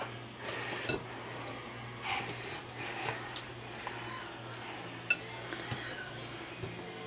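A child mixes cupcake batter in a bowl, making soft, quiet clinks and taps of a utensil against the bowl at an irregular pace, close by, with no talking.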